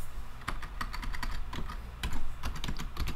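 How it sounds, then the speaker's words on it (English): Typing on a computer keyboard, a steady run of quick, close clicks and taps of varying strength, fairly quiet and with no voices. "So I'm going to type"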